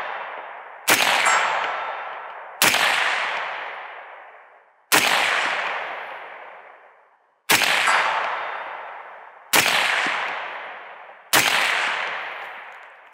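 Six loud gunshots fired at targets 100 yards away, spaced irregularly, each sharp crack trailing into a long outdoor echo, with no speech.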